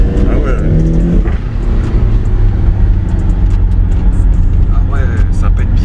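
A BMW X6M with 575 hp revs hard on an open road, its loud engine drone continuous and close, with crackling exhaust pops. Occupants talk over the engine noise.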